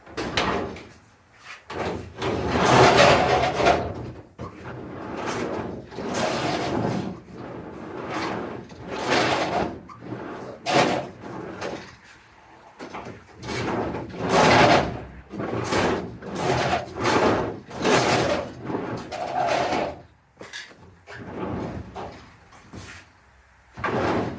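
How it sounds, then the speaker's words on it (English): A 1969 VW bus sliding door grinds along its track, which is still held up with clamps and a couple of tacks. Several scraping open-and-close strokes rumble nearby, each a rough grinding slide with short pauses between. "I don't like that grinding noise"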